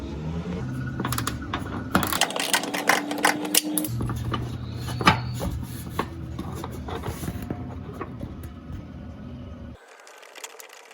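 A socket wrench works loose the rear bumper bolts on a Jeep Wrangler JK, giving bursts of close ratcheting clicks and metallic taps with brief pauses, ending in quieter handling noises.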